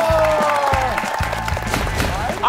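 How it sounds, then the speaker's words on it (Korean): Studio audience applause on a Korean variety show stage, a dense, loud wash of clapping with some cheering, overlaid by tonal music or effects, continuous throughout. "다시 한번 박수 부탁드리겠습니다"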